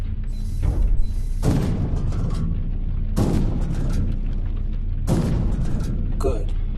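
Heavy booming mech weapon blasts fire in the VR game Iron Rebellion in a slow rhythm, roughly every two seconds, each with a mechanical clank and rumbling decay over a steady synthetic hum.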